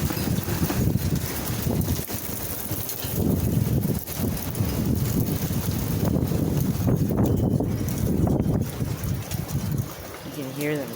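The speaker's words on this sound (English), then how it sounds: "some of these wind gusts are actually scary." Strong wind gusts roaring through trees, a loud, continuous rushing surge that swells and eases with heavy buffeting on the microphone.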